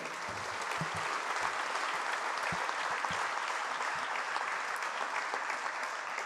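Audience at a political coalition presentation session in Braga applauds, a steady, even wash of many hands clapping that holds throughout without voices.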